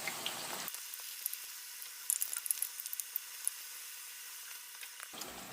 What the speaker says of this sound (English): Just want to crisp up your tortillas just like you were making corn chips